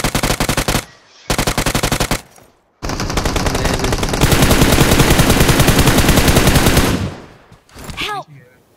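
Loud, close automatic gunfire in a video game comes in long rapid bursts: a few sharp chattering volleys, then a sustained spray lasting several seconds before it cuts off into quieter noises.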